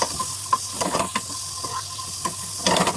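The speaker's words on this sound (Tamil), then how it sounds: "நல்லா கொஞ்சம் ஃப்ரை ஆகட்டும்." Paneer fries in a pan with chilli powder, a soft sizzle broken by several sharp stirring scrapes and clinks.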